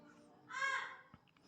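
A black bird at a zoo gives a single drawn-out, harsh caw at moderate distance, rising out of a quiet outdoor background and fading after about half a second, followed by a small thump.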